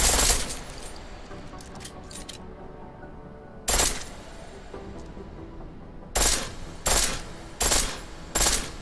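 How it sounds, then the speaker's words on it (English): Bursts of full-auto pistol fire in the Deus Ex Mankind Divided video game, a quick rattling volley at the start followed by several separate loud bursts later on, with no voices. "The pistol in full auto will take down targets fast, but it'll burn through your ammo."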